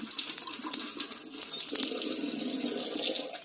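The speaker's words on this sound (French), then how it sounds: "il y a l'eau qui coule ici" Water runs steadily from a tap or pipe in Tanzania, a soft continuous splashing hiss at moderate distance with no talk over it.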